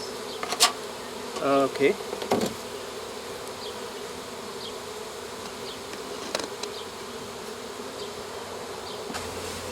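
Honey bees buzz around an open beehive being inspected for varroa mites, a low steady hum with brief louder passes near the start, faint throughout and with a single short spoken word.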